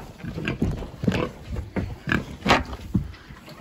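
A pet boar grunts and oinks in a steady series of short, close snorts, one after another over a constant background hiss.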